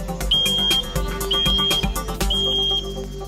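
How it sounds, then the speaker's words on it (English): A smoke alarm going off inside a test house during a controlled smoke test, its shrill high-pitched beeping repeating over loud, irregular clattering and thumping in the room, with no speech. "So when the smoke alarms are actually triggered"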